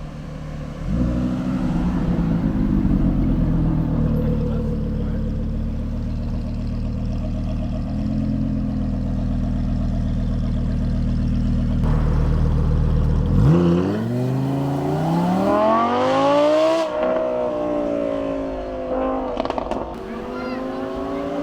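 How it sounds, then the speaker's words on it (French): A sports car approaches and revs on a Côte d'Azur street, its engine droning steadily then rising in loud revving sweeps near the end; background voices are faintly present. "Petite caisse sympa, on l'entend arriver d'ailleurs."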